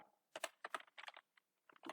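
Quick, irregular clatter of keys on a computer keyboard as Python code is typed, arriving in short bursts with brief pauses, close and clear with no talking.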